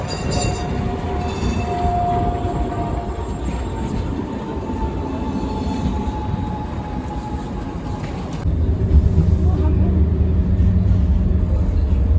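Steady low rumble inside a London tram heading to Wimbledon, with faint wheel squeal and rail noise, growing louder and heavier toward the end, no one speaking.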